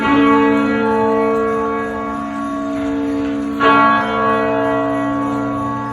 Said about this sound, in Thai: ทุกคนได้ยินเสียงนาฬิกา